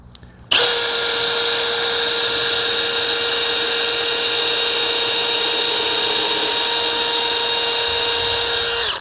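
A power drill boring a pocket hole in wood whines at a steady high pitch, running continuously and loudly for several seconds after starting abruptly.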